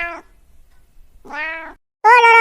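Cartoon cat gives three distinct meows in a quiet setting, two spaced apart and a louder, drawn-out final one, with a near, clear tone and no talking.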